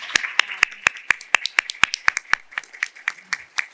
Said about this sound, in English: maybe just a moment of applause for our federal workers